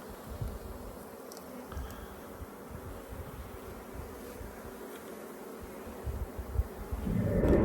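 Honey bees buzz around an open hive in a Kent woodland, a close, continuous drone with individual bees passing near, swelling louder toward the end.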